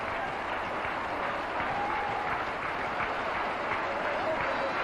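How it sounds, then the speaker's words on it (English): A large crowd at a day-night India versus Pakistan one-day cricket match in Sharjah claps and cheers in sustained, dense applause after a wicket falls, with commentary talk faintly mixed in. "the crowd standing up to show its appreciation"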